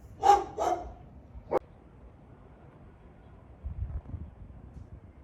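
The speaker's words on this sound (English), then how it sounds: "Oh, the dog is not happy to see me." A dog inside a home in Guanajuato, Mexico, gives two quick close barks, followed by a short sharp knock and then a quiet stretch with faint low rumbling.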